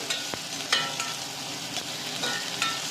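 Curry leaves and green chillies frying in a pan for Rayalaseema-style radish sambar, a steady close sizzle with a few stirring scrapes, no talking.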